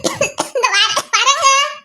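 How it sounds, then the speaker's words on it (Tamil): A child gives a quick run of several short, sharp coughs close by, then breaks into voiced, laughing vocal sounds. "என்ன ஏதோ இருமல் சவுண்டா கேக்குது?"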